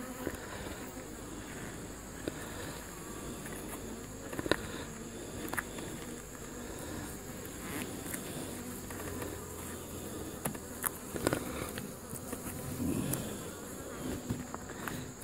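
Honey bees buzz around an open hive holding empty comb and a little capped honey, a continuous close droning hum with scattered louder passes and small taps, no voices.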